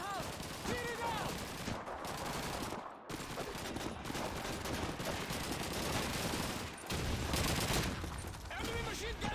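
Machine gun fire in Call of Duty 2, rapid continuous bursts with brief pauses, loud and dense, mixed with other battlefield gunfire and game sounds.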